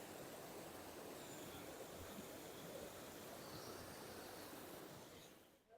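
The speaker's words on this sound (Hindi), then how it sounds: "ये यहाँ का बहता पानी है जो कि आप देख सकते हैं। काफ़ी ज़बरदस्त फ्लो है इस पानी का" Strongly flowing stream water near a bridge on the road from Mirik to Darjeeling makes a steady, dense rushing hiss with no break. It sounds quiet and distant, then fades at the very end.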